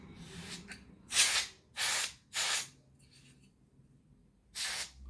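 Four loud bursts of aerosol spray aimed at a dirty PlayStation 5 cooling fan during cleaning, each hiss lasting about half a second, with a few faint quick puffs and rustles between them.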